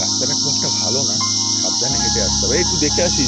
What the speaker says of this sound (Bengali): সারাদিন হোমস্টে থেকে শোনা যাচ্ছে ঝিঝি পোকার ডাক